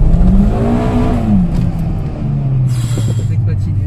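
A Peugeot 206 RC model car spins its wheels with a whining motor pitch that rises and then falls, while people talk nearby and a short hiss comes near the end.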